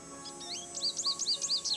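Repeated bright chirps and tweets from a bird in the Nancy Drew Ghost Dogs of Moon Lake video game, starting sparse then settling into a steady run of quick, close, clear calls with no talk over them.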